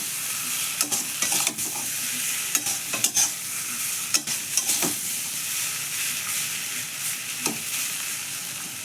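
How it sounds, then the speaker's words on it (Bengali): Curry frying in a pan with two spoons of Everest sambar masala, made as a dosa side dish: a steady close sizzle with repeated scraping stirs of the spoon, and no voices. "দিয়ে আর একটু ভেজে নেব।"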